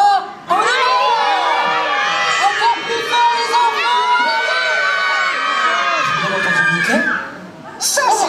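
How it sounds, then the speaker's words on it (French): A large audience of children at a live Disney Junior stage show shouts loudly all at once, a dense burst of overlapping voices sustained for several seconds before tapering off. "vous allez crier votre nom super fort"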